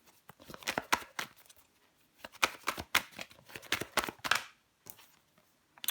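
Tarot cards being shuffled and laid down, heard as quick close bursts of papery flicks and slaps in clustered runs with short pauses between, soft overall and with no talking.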